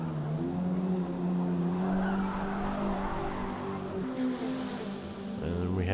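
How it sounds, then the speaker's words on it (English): Tires squeal and skid as a worn-tired race car drifts in a Forza Motorsport multiplayer race, with a steady engine drone running throughout. "There I go, doing a little drifting again"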